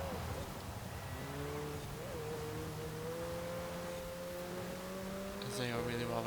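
A McLaren racing in Forza Horizon 4 hums steadily as its engine tone slowly climbs, then jumps sharply near the end. The sound sits fairly faint under a low background wash, with a voice talking over it.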